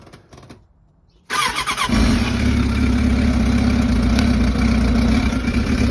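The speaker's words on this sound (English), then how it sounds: "You gotta hold the clutch on this when you start" A 2006 Suzuki Katana 750 carbureted motorcycle cranks and fires up after a quiet moment, then settles into a steady, loud idle close by.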